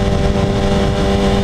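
A Yamaha R1 liter-class sport motorcycle roars loudly and continuously while being ridden. The close, steady engine drone has no talk over it.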